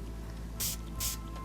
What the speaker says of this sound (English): giving it quite close and giving it a good spray